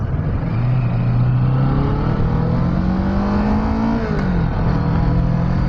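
A Kawasaki Vulcan S motorcycle engine pulls while riding on a road, its low tone held steady then rising and dipping briefly as revs change, loud and continuous with wind-like noise around it.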